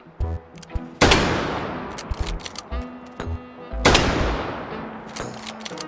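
A WWII .30-06 rifle fires in the H3VR virtual reality shooting game: two loud, close shots a few seconds apart, each ringing out in a long decay, with light mechanical clicks and handling noises between them.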